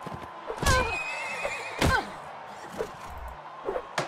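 Horse in the medieval combat video game Mount & Blade: Warband, two loud whinnying neighs with clattering impacts and thuds between them, followed by softer hoof knocks and game noise.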